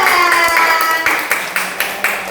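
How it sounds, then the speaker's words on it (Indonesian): Classroom of students clapping for the winning groups: a quick patter of hands that settles into several evenly spaced, sharper claps, fairly close, over a faint tonal background. "Tepuk tangan kelompok 1 dan kelompok 2."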